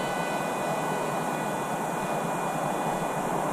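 An RMRC Strix Goblin RC plane climbs at one-third throttle, giving a steady, even rush of motor and propeller noise with a thin constant whine, holding the same level throughout with no talk.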